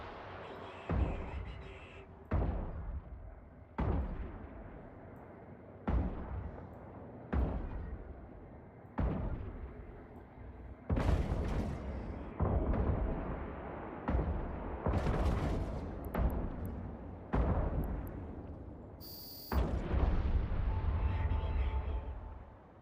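Spaceship weapons fire in the Eve Online video game, a steady run of about fifteen heavy booming shots at regular intervals, each with a sharp attack and a rumbling decay, loud and close with no talk.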